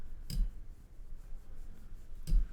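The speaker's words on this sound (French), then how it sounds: "il donne des gros coups de tête sur le micro" A cat headbutts and rubs its face against a microphone, giving two sharp, close thumps about two seconds apart with faint rubbing noise between them.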